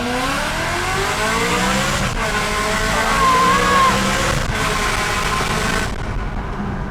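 A BMW M3 fitted with a Tneer exhaust setup revs hard and loud, a sustained aggressive engine roar with two brief breaks between long pulls before it cuts off near the end.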